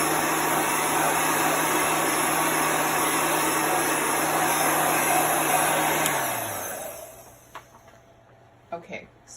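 Heat tool switched to its cool air setting while drying a Chalk Couture ink transfer, blowing as a steady close whir for about six seconds before winding down and stopping, followed by faint clicks and handling noises.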